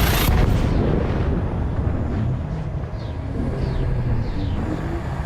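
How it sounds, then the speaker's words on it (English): A starship's frame shift drive engaging in Elite Dangerous, a loud deep roaring surge that swells and then settles into a sustained low rumble with faint whooshing sweeps. "Frameshift drive charging"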